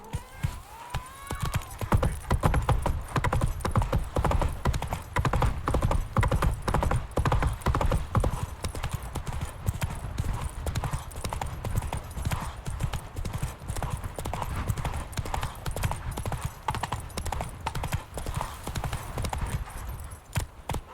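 A horse gallops in The Witcher 3 video game, its hooves clip-clopping in a rapid, steady rhythm that carries on for about twenty seconds at a moderate level.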